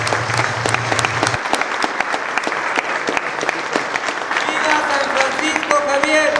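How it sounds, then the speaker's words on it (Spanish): A crowd applauds at an outdoor gathering at a Jesuit mission in Baja California Sur, with sustained, dense clapping that continues for several seconds while cheering voices rise toward the end. "Un aplauso."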